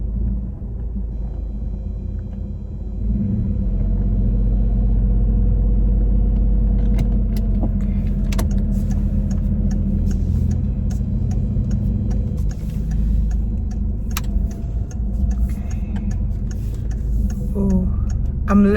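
Car engine idling and rumbling while being driven by a nervous learner, a steady low drone with ticking and light rattles throughout, no talking heard.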